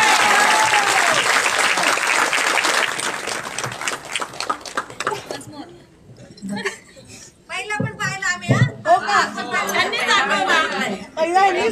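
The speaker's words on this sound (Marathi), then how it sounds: "अशा ताईंसाठी टाळ्या होऊन जाऊ द्या।" An audience at a Zimma 2 star cast event in Thane applauds the actresses with loud, sustained clapping and chatter, then it fades and talk and laughter take over.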